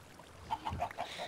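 Chickens clucking in the Minecraft video game, a short run of about five soft, evenly spaced clucks at moderate distance, fairly quiet with no talk over them.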